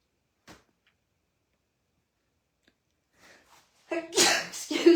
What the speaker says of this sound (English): I don't think I've ever sneezed on the live before